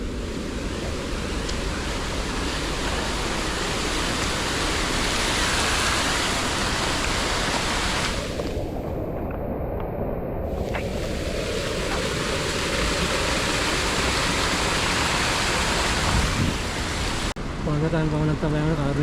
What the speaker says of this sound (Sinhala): ලස්සන පොඩි වතුර පාරක් ඒක මාර කියුට්